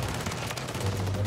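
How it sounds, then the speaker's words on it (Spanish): The Holger firing on full auto in Warzone 3, a fast, dense stream of shots with no gaps, loud and close, steady for the whole burst. "¿Por qué dispara tan rápido la Holger, verdad?"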